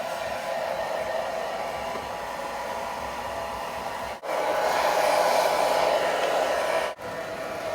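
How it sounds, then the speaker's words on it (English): A handheld blow dryer runs steadily for several seconds, heating hair coated in deep conditioner, with a constant close airy roar and two very brief cutoffs where the airflow dips and resumes. "So now what we're going to do is actually use the blow dryer for about 5 minutes on it."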